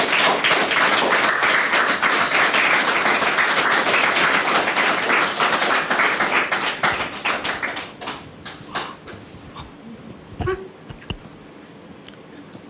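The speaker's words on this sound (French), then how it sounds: "Merci de la recevoir avec vos applaudissements" Studio audience at a French TV talk show applauds loudly and steadily, then the clapping thins to scattered claps and taps before fading out.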